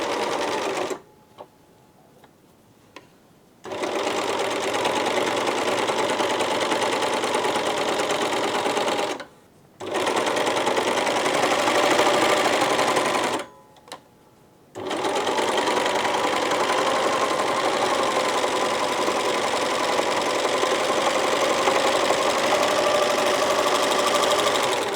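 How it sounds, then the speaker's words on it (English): A sewing machine stitches trouser fabric in a rapid, steady mechanical chatter, loud and close, stopping briefly three times before starting again. "What I'm going to do now is use my sewing machine and just run a line of stitching down there."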